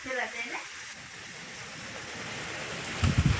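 Evening rain falling outside in the dark, a steady, even hiss of moderate loudness that continues through the whole stretch, with a few low thumps near the end.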